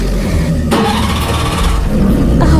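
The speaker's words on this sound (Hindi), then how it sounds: "इंजन स्टार्ट करते रहो" An old, rusted engine cranks and tries to catch during an alligator attack, a steady mid-pitched churning with a sharper surge partway through, loud and continuous with no talking.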